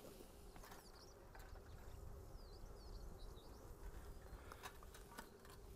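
Honeybees buzz around an open hive during a spring inspection, a dense, continuous drone close by, with occasional louder passes and faint clicks.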